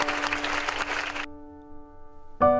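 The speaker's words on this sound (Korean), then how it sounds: "박수 한번 주시죠." A short burst of audience clapping for the 60th class of the Korean Armed Forces Nursing Academy, about a second of applause that cuts abruptly to a sustained musical tone.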